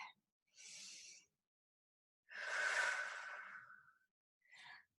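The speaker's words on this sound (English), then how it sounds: "Take a deep breath." Deep breaths during a stretching exercise class, a close, airy inhale, then a longer, heavier exhale like a sigh, and a short breath at the end, with silence between.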